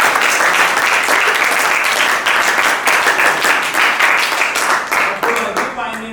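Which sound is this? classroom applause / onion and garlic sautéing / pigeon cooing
classroom applause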